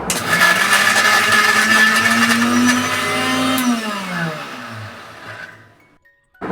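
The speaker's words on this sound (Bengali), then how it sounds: "এখন একটা ব্লেন্ডার জারে নিয়ে নিচ্ছি এবার মিহি একটা পারফেক্ট চিকেন কিমা তৈরি করে নিচ্ছি" A blender jar minces small cubes of raw chicken breast without water, producing a loud, close motor whir that runs steadily, then winds down and stops.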